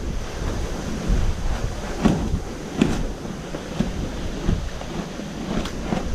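Strong hurricane wind roars steadily outdoors in a dense, rushing wash, with gusty swells and a few faint knocks and rattles and no voices.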